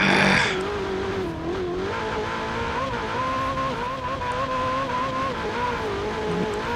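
A stock 2019 Ferrari 488 Pista loses grip off tarmac in Forza Horizon 4. A close, continuous engine drone runs under a wavering high tire squeal as the car skids.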